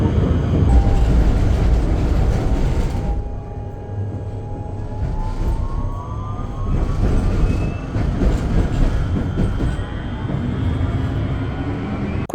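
Inside a Prague tram on a diversion route: steady rolling rumble and wheel noise, with a rising whine of the motors and faint squeals as it moves along.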